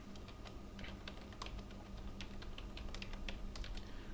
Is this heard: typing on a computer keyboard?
yes